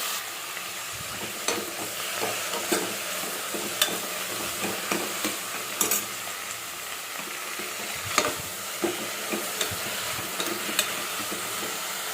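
Palak (spinach) fries in a pan with a soft continuous sizzle, broken by frequent light scraping and clicking strokes as it is stirred.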